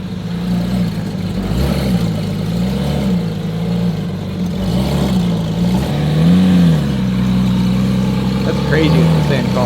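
A Porsche 911 G-series engine revs hard during a burnout on a trailer, a steady loud drone with rising and falling pitch swells, people talking over it throughout.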